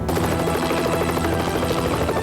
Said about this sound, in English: I heard a helicopter.